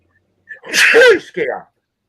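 A single loud, close sneeze with a short inhale before it and a brief trailing burst after.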